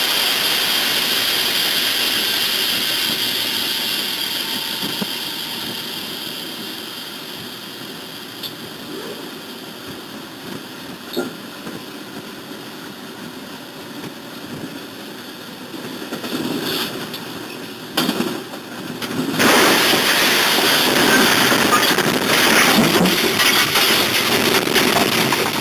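Two trains brake ahead of a collision, a loud, sustained rushing roar that dips and then swells into a harsher, louder grinding noise toward the end.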